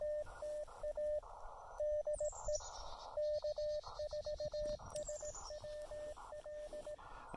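A ham radio operator works 20-meter CW during a summit activation, and the Morse sidetone plays as a clean, steady beeping in rhythmic dits and dahs over a faint hiss, with a couple of brief chirps.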